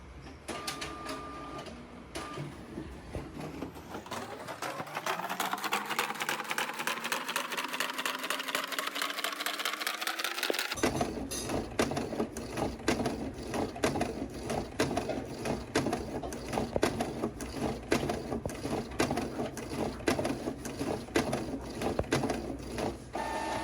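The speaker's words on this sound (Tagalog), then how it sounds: "I-align muna natin yung kanyang print head. Print alignment value." A Canon PIXMA E4270 printer runs its print head alignment: a motor whine climbs in pitch over several seconds, then gives way to a steady mechanical churn of rapid clicks and carriage movement, close and fairly loud.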